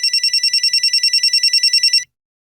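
A telephone rings with a rapid, trilling electronic bell, loud and close, for about two seconds, then stops into silence.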